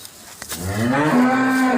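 A large dairy cow for sale on a Bangladeshi cattle farm gives a single long, loud, close moo with a rising then steady tone lasting over a second, with no talk.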